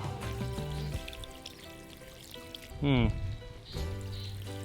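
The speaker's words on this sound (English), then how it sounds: "Gonna add some water" Water being poured into a large Intex above-ground swimming pool, a brief splashing pour heard amid a voice and background tones, with a louder gush near the middle.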